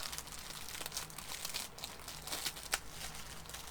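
A Temu haul package is cut open, giving a steady soft crinkling and rustling of plastic wrapping for a few seconds, close and fairly quiet, with one slightly sharper crackle near the end.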